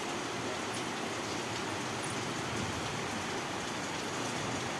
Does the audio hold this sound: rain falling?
yes